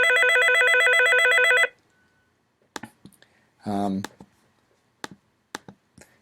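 An NBX office phone plays a ringtone selected from its settings menu: a loud, continuous electronic trill, then near silence broken by button clicks and one short burst of a different ring.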